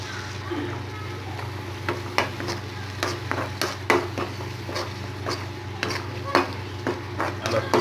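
Brain fry bubbles and sizzles softly in a pan with repeated scraping and stirring clicks from a utensil, steady and close.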